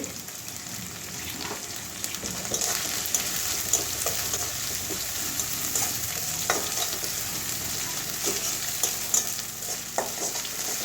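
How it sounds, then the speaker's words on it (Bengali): Ginger, garlic and cumin powder stir-fried for okra fry, a continuous close sizzle crackling with frequent small taps and scrapes of a spatula against the pan, no talking. "আদা রসুন আর কাঁচা গন্ধটা যাওয়া পর্যন্ত কষাবো জিরে গুঁড়ো দিয়ে দিচ্ছি"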